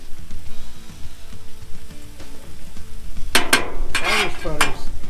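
Irish butter melting on a hot Blackstone griddle gives a low frying sizzle, joined midway by louder scraping and clinking of a metal spatula against the flat top.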